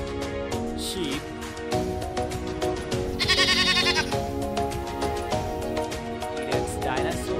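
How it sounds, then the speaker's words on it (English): A sheep bleats over a busy musical backing in a children's toy-animal presentation, the bleat brief and mid-loud, with a bright shimmer partway through. "Sheep."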